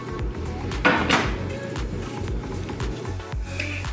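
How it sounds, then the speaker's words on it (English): A non-stick pan is handled in a kitchen while making vegan naan, giving a run of close clanks and knocks of cookware and utensils, with a louder clatter near the start and scattered thumps throughout. "So I'm going to use this non-stick pan."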